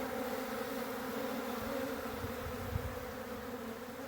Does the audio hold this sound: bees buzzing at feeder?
yes